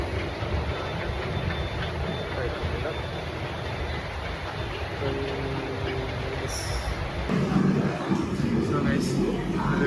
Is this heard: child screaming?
no